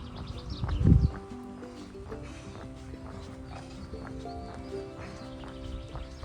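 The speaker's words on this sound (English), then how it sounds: "Horsies." Horse hooves clip-clop faintly beside a country road on the Camino del Norte in the Basque coast area. A single louder thump comes early, then soft uneven hoof steps continue under quiet ambient noise.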